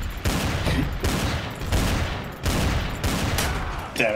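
Rapid gunfire in the game Trouble in Terrorist Town, loud close bursts of automatic shots repeating in several volleys with short gaps between them.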